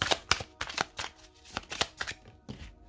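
Playing cards being shuffled for a tarot-style reading, a quick run of crisp riffling bursts and soft slaps, close and moderately loud, with no voices.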